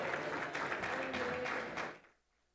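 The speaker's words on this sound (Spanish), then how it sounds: "¡Fuerte aplauso!" A government awards ceremony audience gives loud sustained applause, many hands clapping together for about two seconds before it cuts off abruptly.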